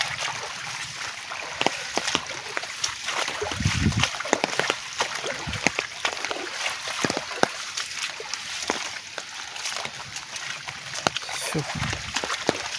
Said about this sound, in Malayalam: ഞാനിപ്പം വെള്ളത്തിൽ കൂടെയാണ് നടക്കുന്നത്